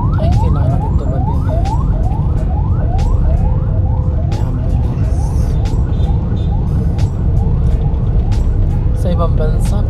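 A loud ambulance siren yelps in rapid repeating rising sweeps over heavy road rumble on an elevated expressway in Manila, with people talking beneath it.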